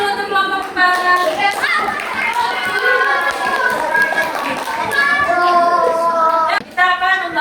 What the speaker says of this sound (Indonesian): beri aplaus dulu untuk kelompok 4